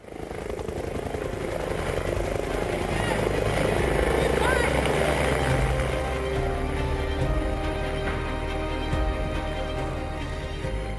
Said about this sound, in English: They walk me to the helicopter and I get in, and we just lift off